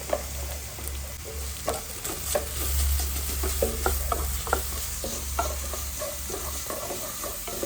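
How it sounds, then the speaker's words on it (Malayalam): Crushed garlic, ginger and chili frying in hot oil crackle steadily up close, with repeated spoon scrapes and knocks against the pan over a low hum. "വെളുത്തുള്ളി ഇഞ്ചി ഒന്ന് ജസ്റ്റ് ഒന്ന് മൂത്ത് വന്നിട്ടുണ്ട്"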